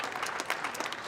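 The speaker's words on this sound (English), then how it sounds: "let's give a big round of applause for the Blair High School Band and Junior ROTC Color Guard" An audience at a 2016 Veterans Day ceremony in Pasadena claps for a high school band and Junior ROTC color guard, giving a brisk, steady burst of applause of moderate loudness from a crowd.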